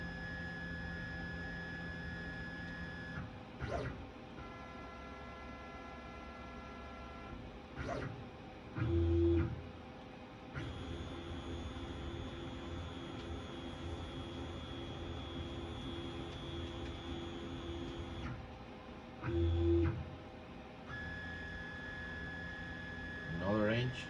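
A 3D printer runs its bed-probing routine, with a steady machine hum broken by short motor moves and two brief louder thumps as the head comes down to probe, under continuous background noise.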